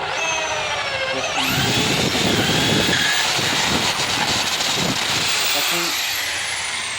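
An electric drill whines and grinds through material at close range, its motor pitch rising and falling in long steady bursts.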